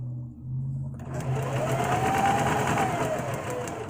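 A sewing machine starts up after about a second of quiet and runs steadily, stitching fabric in a continuous close whir with a faint rising whine, loud and alone with no talking.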